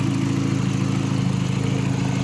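A VW Mk4 engine idling steadily nearby, a loud even low rumble with a fast regular pulse and no voices.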